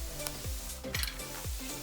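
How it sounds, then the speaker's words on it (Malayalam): Chili, turmeric, fenugreek and asafoetida powders sautéing in oil for an instant cranberry pickle, a close, steady sizzle broken by quick, rhythmic spoon scrapes against the pan, with no one talking. "ഇതിനെല്ലാം എണ്ണയിൽ നന്നായി വഴറ്റുക."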